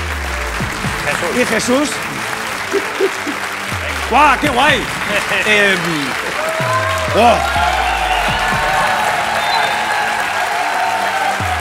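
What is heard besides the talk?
audience applause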